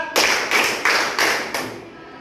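Students in a class clap in unison to a counted beat, five crisp, evenly spaced group claps close and loud, then the room falls quiet.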